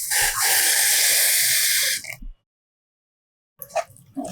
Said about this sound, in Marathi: हे एक वाटी पाणी मी उकळायला ठेवलंय ते आता ओतूया पाणी गरम उठूनच घालायचं